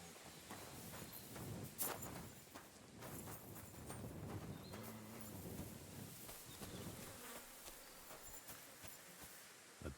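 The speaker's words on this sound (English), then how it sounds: "A beautiful horse." A black horse's hooves clip-clop in the medieval video game Kingdom Come: Deliverance II, faint footfalls set against a constant buzz of insects in quiet outdoor ambience.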